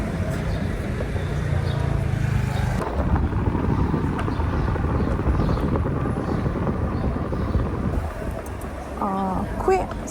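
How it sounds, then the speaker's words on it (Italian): Busy street traffic in the Prati district of Rome on a summer evening, a steady broadband roar of passing cars and engines that holds loud throughout, with wind buffeting and a voice talking over it. "Non pensavo ci potesse essere tutto questo traffico oggi."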